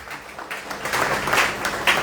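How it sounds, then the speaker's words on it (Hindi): An audience at a car-loan company event applauds, a dense, moderately close patter of many hands that holds steady and builds slightly toward the end. No voices are heard. "Ladies and gentlemen, please give a big and जोरदार तालियां दीजिए"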